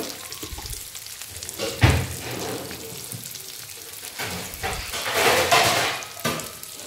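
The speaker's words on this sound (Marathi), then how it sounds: "आपली सगळी भेंडी ह्याच्यावर तेलावर अशी ठेवून द्यायची" Stuffed okra frying in oil in a pan, a steady crackling sizzle with a louder burst of hissing partway through and a few soft clinks of a utensil against the pan.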